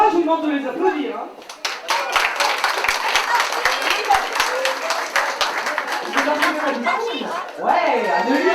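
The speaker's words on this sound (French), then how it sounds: "je vous demande de les applaudir" A small audience claps for dancers at an evening community event, a brisk, close burst of hand claps rising between stretches of voices, with someone speaking over the start and end.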